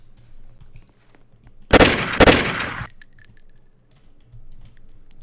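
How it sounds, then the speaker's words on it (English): Two quick bursts of gunfire from an ACS gun shooting tracer rounds in a Roblox Studio game, loud and close together, then quiet. "now I'm testing out the gun that we're gonna be making in this video"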